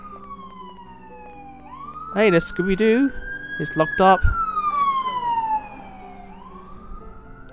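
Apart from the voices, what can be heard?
police siren in a video game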